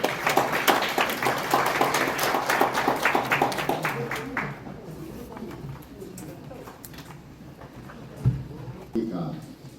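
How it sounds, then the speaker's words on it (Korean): An audience at a National Assembly forum on bringing the national dental research institute to Daegu breaks into dense, sustained clapping. It fades after a few seconds as a voice takes over. "박수 부탁드립니다."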